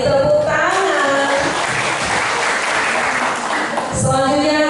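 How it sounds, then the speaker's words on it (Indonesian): Crowd applause at an award ceremony for Indonesian court budget performance winners, steady loud clapping for several seconds, framed by a speaker's voice at the start and end. "Kita beri tepuk tangan."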